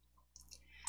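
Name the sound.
computer mouse clicking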